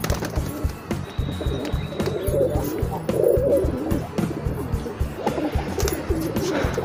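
A pigeon coos in a steady rhythm of low, repeated throaty calls, close and clear, with faint background clatter.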